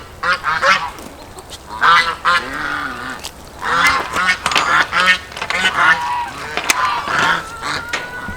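Geese honk repeatedly from a goose enclosure on a farm, loud overlapping calls in irregular bursts close by, with no talking.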